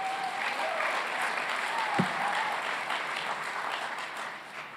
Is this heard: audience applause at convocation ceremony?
yes